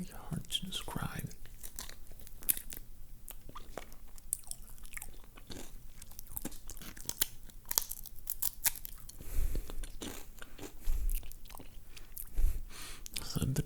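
Close, crisp crunching of Sun Chips, rapid bites and chews repeating throughout with a few heavier crunches near the end, mixed with soft whispered talk.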